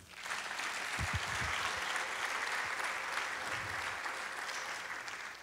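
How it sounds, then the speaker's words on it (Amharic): A church congregation applauds together during a worship service, a dense, steady burst of clapping that carries loudly through the whole stretch with no talking over it. "እንደገና አጨብጭቡ"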